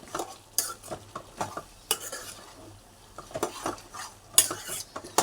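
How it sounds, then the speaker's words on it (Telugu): A spoon stirs mutton and drumstick curry with spices in a pan, giving irregular scraping strokes and metal clinks over a soft sizzle, close by with no voices. "ఇవన్నీ బాగా కలుపుకొని ఇలా కలుపుకోవాలి చక్కగా ఇలా కలుపుతున్నాము అంతా ముక్కలు పట్టేటట్టుగా"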